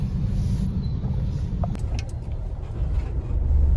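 A road traffic jam on the way to Khed Shivapur, heard as a continuous low rumble of idling and crawling engines, with a faint higher whine and brief clicks partway through.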